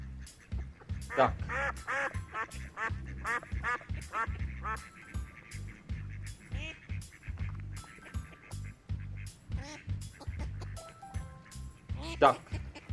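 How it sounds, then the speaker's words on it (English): Duck giving a long run of quacks, near and fairly loud, in bursts over a steady rhythmic low background beat, with a sharp raspy call near the end. "It's a duck."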